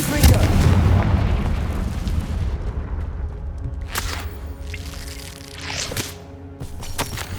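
Confringo blasting spell firing in the Hogwarts Legacy video game: loud, booming explosive blasts with a rumbling tail, followed by several sharper crackling bursts that fade and recur over a sustained low roar.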